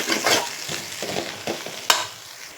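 White pumpkin halwa is stirred with cardamom and a pinch of salt, giving close, thick scraping and squelching strokes against the pan, with a sharper clack near the end.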